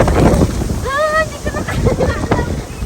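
Loud, cold gusty wind in Taiwan buffets the microphone in a steady low rumble, with a voice speaking briefly over it partway through.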